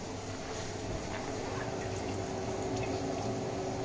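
Coolant water trickles steadily back through a top filter and fabric into the coolant tank of an epoxy granite CNC mill, a soft continuous splashing pour close by with no voices.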